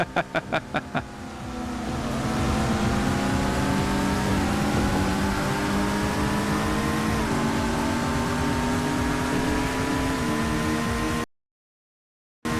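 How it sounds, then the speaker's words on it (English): Powerboat engine roar from the PS1 racing game Aqua GT, a loud, continuous droning motor whose pitch climbs and shifts as it runs, after a few quick opening blips, then cutting to silence near the end. "The engine's just overpowering the music a little too much"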